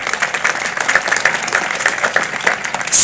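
A graduation crowd at Freehold High School's 2025 ceremony bursts into sustained applause, bright overlapping claps that stay loud and even for the whole stretch.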